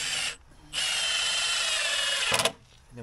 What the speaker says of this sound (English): And then we bolt our piece of timber together